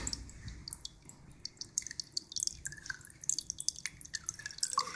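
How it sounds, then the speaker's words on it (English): Leftover water drips from a capacitance meter in an automated soda fountain dispenser into a cup below, a run of small irregular drops, close and fairly faint, with no talking. "the leftover water in the capacitance meter will drain into the cup"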